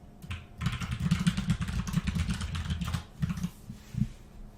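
Fingers rattle quickly across a computer keyboard in steady close bursts of clicking keystrokes, with short pauses between runs of notes being typed.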